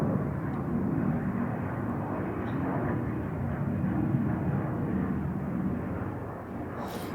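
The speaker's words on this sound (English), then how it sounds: "We have got some loud planes going overhead tonight." Loud airplanes pass overhead at night, a broad continuous rumbling roar that holds steady throughout with slight swells, heard without any talking.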